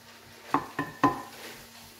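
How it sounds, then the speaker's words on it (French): Onions cooking in a pan under a soft background sizzle, punctuated by three sharp utensil knocks against the pan in quick succession, close by. "On va laisser cuire comme ça nos oignons pendant à peu près, allez, entre 5 et 10 minutes."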